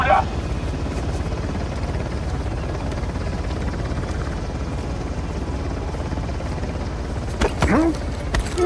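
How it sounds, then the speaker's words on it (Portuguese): Helicopter in the video game Uncharted: The Lost Legacy, a steady loud rotor drone throughout with brief sharper bursts near the end, game voices faintly under it. "Temos que derrubar esse helicóptero!"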